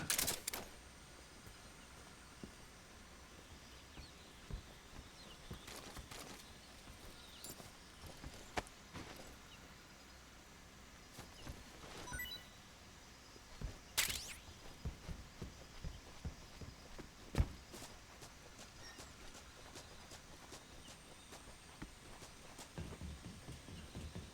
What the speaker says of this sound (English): his footsteps sound a lot lighter